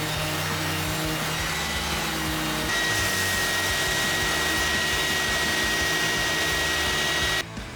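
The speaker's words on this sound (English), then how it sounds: "now it's a case of sanding these up and all the other pieces that I haven't sanded yet" Power sander working over wooden basket pieces, a continuous loud close whirring drone that shifts pitch partway through as pressure changes, stopping abruptly near the end.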